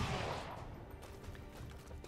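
Gunfire breaks out in XCOM 2 as a sharp burst of shots at the very start, then fades into a lingering, decaying rumble with a few faint later cracks.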